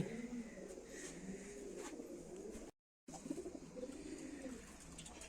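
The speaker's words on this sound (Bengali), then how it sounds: "এই যে কবুতর এই যে কবুতর" Soft, low pigeon coos repeat in a calm, outdoor setting, brief gap of silence midway, faint and fairly distant.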